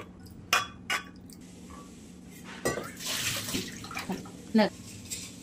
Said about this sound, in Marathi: ह्याच्यात आहे ना आपण शिजायपुरतं पाणी टाकून घेऊयात